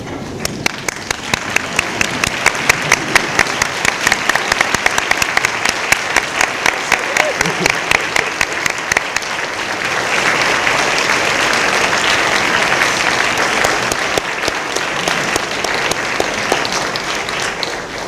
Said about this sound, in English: can the class of 2021 please stand and turn to face our family and friends and give them a round of applause